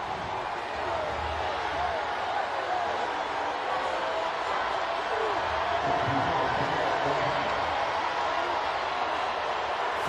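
Football stadium crowd at the Magic City Classic between Alabama State and Alabama A&M, a broad steady roar of many distant voices building on a fourth down, even and continuous throughout.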